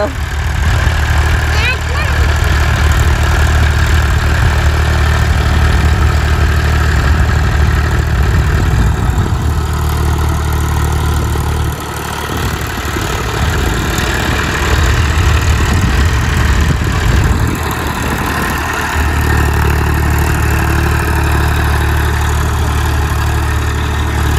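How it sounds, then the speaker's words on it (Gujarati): Tractor engine running while plowing a farm field, a loud steady low rumble with a heavy throbbing drone that dips briefly midway and then returns, with talking over it. "જો મિત્રો ટ્રેક્ટર છેડા છે."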